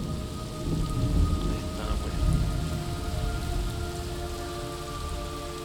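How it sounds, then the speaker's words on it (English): Video game rain in Metal Gear Solid Delta: steady heavy rain pours down with low rumbling thunder rolling underneath, a dense continuous wash of sound with some sustained tonal hum in the background. "It's raining blood."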